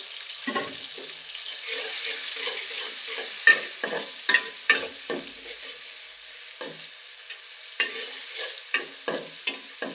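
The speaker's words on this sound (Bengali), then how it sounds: "এখন আমি পেঁয়াজগুলোকে ভালো করে একটু ভেজে নেব, ব্রাউন কালার করে নেব" Chopped onions frying in a pan with bay leaves for a gravy sizzle steadily while a spoon stirs them, scraping and clacking against the pan in irregular bursts, close and fairly loud with no talking.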